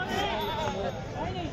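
Native village goats at a Thursday goat market in Bodhegaon bleat in a dense, continuous chorus, close and loud, with crowd voices mixed in.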